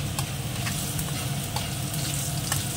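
Dried red chillies tempering in hot oil in a frying pan, a dense steady sizzle with faint rhythmic stirring scrapes, close and continuous, no voices.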